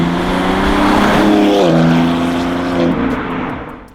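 A BMW X3M/X4M with the S58 engine and a mid-pipe exhaust revs loud and close, its tone climbing and dropping between throttle blips before fading out.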